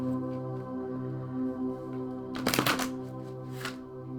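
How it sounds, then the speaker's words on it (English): A quick riffle of a large deck of playing cards, then a brief second flutter, quiet and close over a low steady hum. "This is more along the lines of how I normally shuffle."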